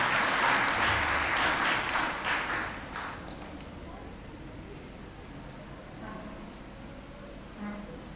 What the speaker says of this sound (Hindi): जोरदार ताली से स्वागत है।